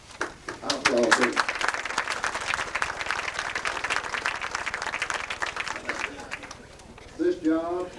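Audience applause rises at a 1996 high school football banquet, a steady patter of many hands clapping for several seconds. Voices speak at the start and end.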